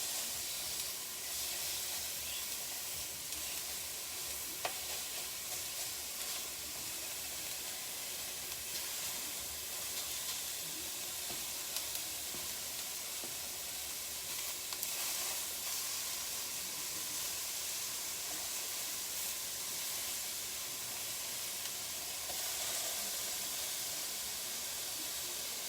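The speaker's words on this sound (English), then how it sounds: "You want it to kind of just turn brown on all sides." Meat for crockpot barbacoa searing in a non-stick pan, a steady broadband hiss and sizzle holding at a constant level throughout, with no talking.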